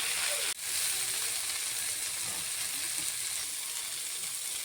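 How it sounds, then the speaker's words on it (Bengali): Mustard greens frying in oil in a wok with potatoes, a few garlic cloves, salt and turmeric, giving a steady close sizzling hiss that runs unbroken after a brief dip near the start, with no voices. "আমাদের শাক ভাজি প্রায় হয়ে গেছে"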